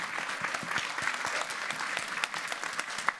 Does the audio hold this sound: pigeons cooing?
no